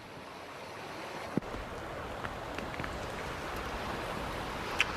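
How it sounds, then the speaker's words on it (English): Storm rain comes down over San Anselmo Creek as rushing water swells into a constant broad wash that sounds like distant surf, with a few faint ticks and knocks on top. "You can see the water moving here as this rain comes down"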